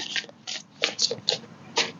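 A tarot card deck is shuffled by hand, giving short bursts of crisp riffling and sliding, about six quick flurries separated by brief pauses, close and clear.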